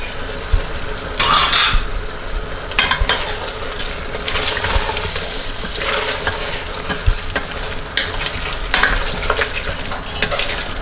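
Chicken and thick curd cook together in one pot for Ambur chicken biryani, a steady sizzle with intermittent scraping stirs against the pot.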